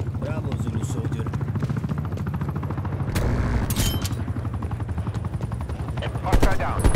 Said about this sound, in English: Attack helicopter established on site.